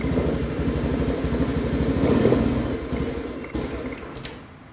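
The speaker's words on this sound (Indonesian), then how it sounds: "silakan kita perhatikan dulu bunyi atau suara mesin dari motornya" A fuel-injected (PGM-FI) motorcycle engine idles steadily up close during a system check, a loud rhythmic chugging with some mechanical clatter, revving slightly then settling.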